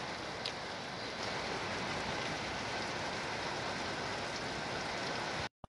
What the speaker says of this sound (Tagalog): At sa sobrang lakas ng ulan